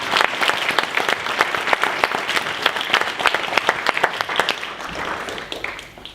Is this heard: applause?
yes